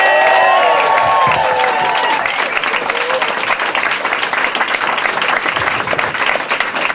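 A stand-up comedy audience applauds, whoops and cheers as comedian Steve Yabsley is introduced in 2010, a loud, dense wash of clapping and shouts that stays steady throughout without easing.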